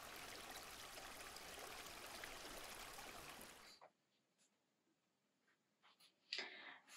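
River water flows with a steady, moderately quiet rush for nearly four seconds, then cuts off into silence before a brief faint splash-like sound near the end.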